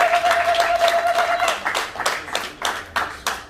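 Wedding guests clap warmly for the bride's father, a burst of applause that thins into scattered, rhythmic claps as it fades.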